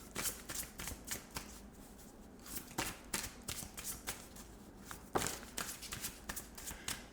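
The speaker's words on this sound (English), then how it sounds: "We'll just shuffle again to see if that really is the card that wants to come out." A deck of tarot cards is shuffled by hand in quick, irregular riffles and slaps, close and crisp, running steadily for several seconds with no talking.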